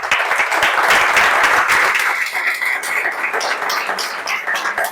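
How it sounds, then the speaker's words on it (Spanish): An audience at an academic dialogue on qualitative research methods bursts into lively clapping, loud at first and then thinning to scattered claps over five seconds; no speech. "Quiero un caluroso reconocimiento y un merecido aplauso bien sonoro para nuestro amigo"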